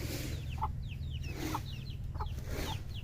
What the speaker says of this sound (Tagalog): Ito mga kamanukan ni Agot oh.